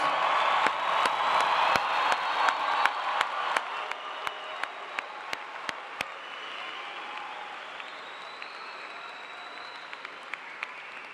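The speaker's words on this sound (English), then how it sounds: "How about another really loud round of applause for our newest degree recipients?" Audience applause for new degree recipients at a university commencement ceremony, dense clapping that thins over several seconds into scattered individual claps, heard from a distance in a large hall.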